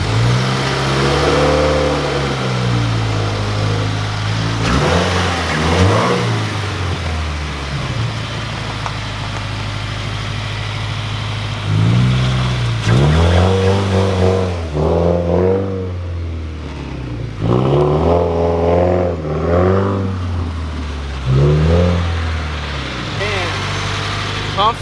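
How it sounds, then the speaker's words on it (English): A Subaru WRX coated in salt after a salt flat run rumbles steadily as it pulls out of a driveway, its engine droning beneath excited talk and exclamations throughout. "I'm actually gonna be able to pull out of the driveway."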